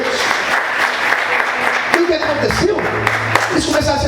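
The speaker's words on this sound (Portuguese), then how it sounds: "Você pode aplaudir ao Senhor por isso" Congregation at a Portuguese-language church service applauding the Lord, a dense wash of clapping that carries steadily throughout, with a few louder accents near the middle and the end.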